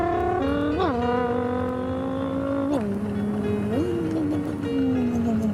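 A car engine running steadily with several rising revs and shifts in pitch, loud and close, with no one speaking over it.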